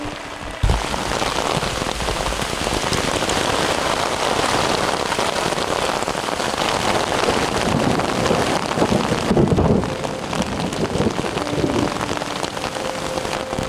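Heavy rain pounds steadily and loudly on a ground sheet during a lightning storm on a bicycle tour in South East Asia, with gusting wind buffeting the microphone and no clear voices.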